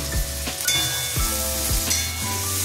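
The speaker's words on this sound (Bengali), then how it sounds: "এগুলো কষাতে থাকবো।" Spices for egg curry sizzle and fry in a pan, a steady hiss with periodic scraping thumps of stirring, close and moderately loud with no talk.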